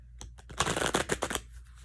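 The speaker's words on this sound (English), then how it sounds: "One more shuffle." A rapid riffle of shuffling tarot cards, a quick crisp flurry of papery flicks close by, lasting under two seconds.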